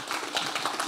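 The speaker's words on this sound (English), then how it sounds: "Give the Lord a clap offering this morning." Church congregation giving a clap offering during a worship service, a dense burst of many hands clapping together steadily for under a second, fairly close and lively.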